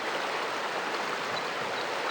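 Babbling river water in Rock Creek Park, Washington DC, a steady, close hiss of water rushing over stones with no break and no talk.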